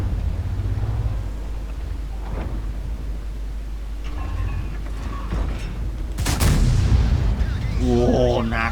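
A tank cannon fires in World of Tanks, with the E-100 and Panzer VII featured, one heavy booming blast partway through, then rumbling engine noise and battle sounds, with a voice speaking briefly near the end.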